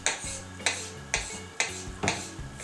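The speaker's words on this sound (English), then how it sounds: "I'm gonna go ahead and chop some of my herbs." Knife chopping fresh garden basil on a cutting board, five crisp evenly spaced strikes about half a second apart, close and clear with no talking.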